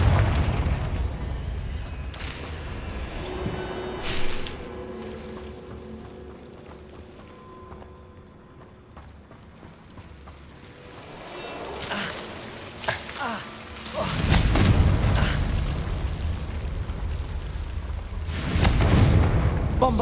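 Confringo fire spells burst in Hogwarts Legacy combat, with several deep booming explosions that swell and rumble, quieter spell whooshes between them, and a brief spoken incantation.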